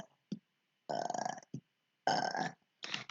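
A person burps out a squeaky imitation of Pikachu the Pokemon, several short voiced belches in a row with brief pauses, close and loud, with no other sounds.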